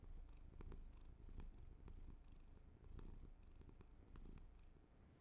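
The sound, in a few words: cat purring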